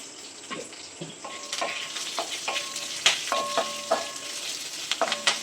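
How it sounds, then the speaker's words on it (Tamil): Curry leaves and spices sizzle and fry in hot oil in a pan for egg gravy, with soft crackling throughout. Several sharp metallic clinks from stirring come at irregular moments, close up, with no talking. "இது இப்போ எல்லாமே ஒன்றா போட்டு வதக்கிடலாம் வதக்கறதுலேயே கருகாப்பிலையும் போட்டுக்கலாம்"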